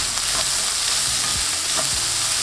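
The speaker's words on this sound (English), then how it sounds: "Give that a mix and lightly saute them" Fresh rosemary and thyme sautéing in a pan with salt, a loud continuous sizzle broken by a couple of scraping stirs, no voices.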